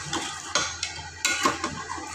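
Chicken salan masala frying in a pan while being stirred, with close scraping strokes of a spoon against the metal, a few sharp clinks and a gentle sizzle underneath, no voices.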